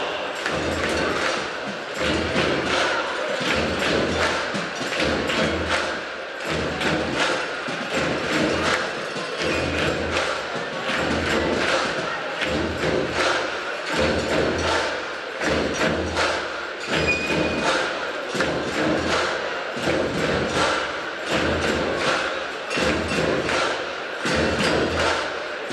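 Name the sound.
crowd clapping along to music track at swimming championships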